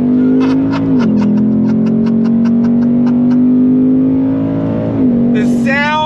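A 2022 Ford Mustang GT engine revs loudly up close, a strong steady tone that dips briefly twice as gears change and climbs again at the end, with rapid rhythmic pulses early on.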